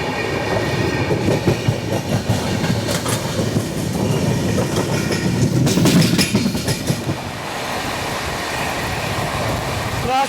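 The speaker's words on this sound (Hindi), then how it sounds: "Crossing Howrah Ahmedabad superfast express." Howrah Ahmedabad Superfast Express passing on an adjacent track, heard from aboard a moving express train: loud rumbling, rhythmic wheel clatter and brief metallic squeals over about ten seconds.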